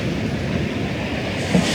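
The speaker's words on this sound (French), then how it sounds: "Et le principal problème aujourd'hui, ça va être le vent." Wind buffets the microphone while waves wash along the rocky Finistère coast in Brittany, a dense, steady roar of surf and gusts heard close, with no speech.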